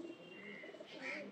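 Colour pigeons in a loft give a faint, soft cooing with a couple of low warbling calls, heard from a little distance over a quiet background.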